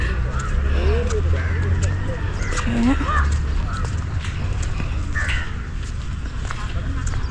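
Crows cawing among smaller birds in an outdoor rose garden, scattered calls over a loud constant low rumble of wind or traffic, with a person talking throughout.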